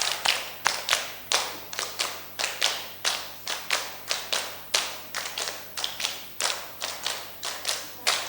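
A classroom group claps in a steady counted rhythm during a microteaching practice session, with around twenty crisp, evenly spaced claps that stay strong and close throughout.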